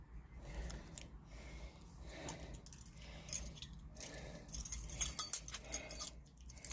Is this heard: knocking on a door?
no